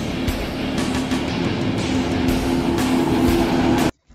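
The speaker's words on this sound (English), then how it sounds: "A couple of wild Leopard 2s going full speed on the German Autobahn" A pair of Leopard 2 tanks drive at full speed on the German Autobahn, giving a loud, steady rumbling engine drone with track clatter that cuts off abruptly near the end.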